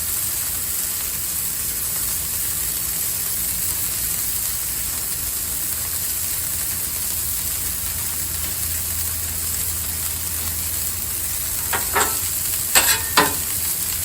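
Burger patties sizzle steadily on a flat-top Blackstone griddle, a constant close frying hiss throughout with a few brief scraping or tapping sounds near the end; no one speaks.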